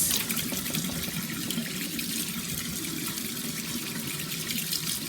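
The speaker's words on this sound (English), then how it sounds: "now I can just rinse it with water" Tap water runs steadily into a kitchen sink while something is rinsed off after a vinegar spray, a continuous close hiss and splash with no talking.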